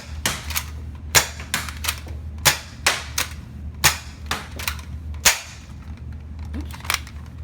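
A Nerf blaster fires Yosoo FVJ darts, each shot a sharp, close pop, about fifteen in irregular quick bursts over a faint low hum.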